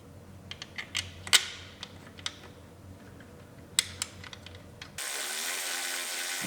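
Ratchet wrench tightening bolts on an air intake tube during an Acura RDX parts install, a run of sharp, close clicks and short ratcheting bursts, ending in a steady hiss of noise.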